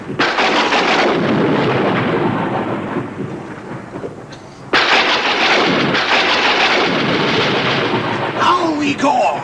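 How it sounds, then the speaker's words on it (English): Heavy thunderstorm thunder as a sound effect: long rolling rumbles with a sudden sharp crack midway and rain hissing beneath, loud and close. "The storm is at its height."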